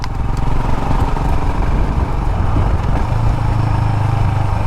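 A 2020 Royal Enfield Himalayan motorcycle ridden along a bumpy, loose back lane, its engine thrumming steadily and loud from start to finish, with rattles over the rough surface.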